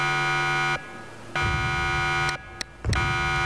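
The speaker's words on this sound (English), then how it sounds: "Alarm is going off." A harsh electronic alarm blares in a Roblox game, a steady buzzing tone that cuts out twice briefly and resumes, loud and close with no talk over it.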